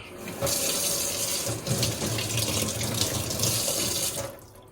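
Water runs steadily from a tap into a sink in a Japanese apartment, a close, continuous splashing hiss that starts abruptly and stops after a few seconds.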